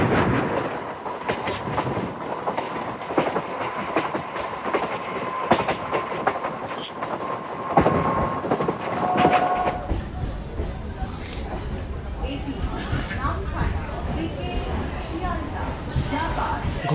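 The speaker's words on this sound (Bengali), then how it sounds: "5 মিনিট লেটে ট্রেন আমাদের পৌঁছালো নামখানা রেলওয়ে স্টেশন" A suburban train from Sealdah rolls toward Namkhana railway station, wheels clicking steadily on the rails in a loud, continuous rumble before the noise thins as it slows, with people talking throughout.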